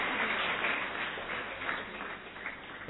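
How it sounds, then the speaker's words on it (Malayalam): An audience at an award ceremony claps steadily: a dense, even wash of many hands, muffled and thin, continuing without a break and with no voices over it. "എല്ലാവരും നല്ലതായിട്ടൊന്ന് കൈയടിച്ച് പ്രോത്സാഹിപ്പിക്കണം."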